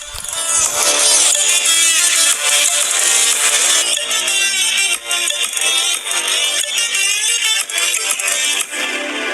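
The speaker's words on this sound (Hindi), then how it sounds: "अब चलिए यहां पर मैं इस सॉन्ग को फिर से प्ले कर लेता हूं।" A song plays loud and continuous through a phone's built-in speaker, streamed from YouTube, with dense music filling the whole stretch and no talking over it.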